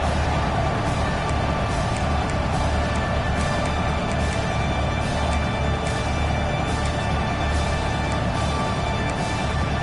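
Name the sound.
loud stadium crowd cheering in Madden football video game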